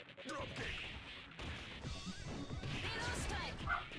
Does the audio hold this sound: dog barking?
yes